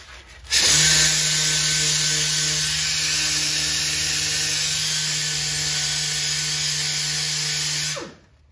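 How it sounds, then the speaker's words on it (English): A power sander running steadily on arcade power brick parts before painting, a loud, even whine that starts abruptly, holds constant for several seconds and then winds down and stops. "So now we can sand this, and this will be ready for a coat of black paint."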